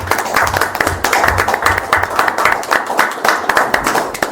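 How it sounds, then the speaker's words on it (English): Applause for Mr. Wilson at a council meeting: steady clapping from a modest group of hands fills the whole stretch, fairly close and even, with faint murmuring underneath. "give him a round of applause"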